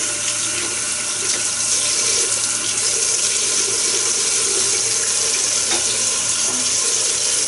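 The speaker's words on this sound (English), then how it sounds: "Let's rinse the soap out of our brush." Tap water runs steadily into a sink while soap is rinsed out of a shaving brush, a constant close splashing rush with no talk.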